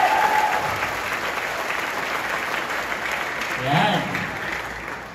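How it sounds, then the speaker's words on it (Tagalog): An audience at a gathering applauds steadily, a dense wash of clapping that continues throughout while someone speaks over it, swelling briefly near the end. "Sige ho, tuloy yung palakpak."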